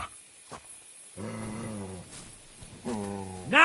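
A dog in the medieval video game Kingdom Come gives a short bark, then two drawn-out growling barks with a pause between, fairly close and moderately loud.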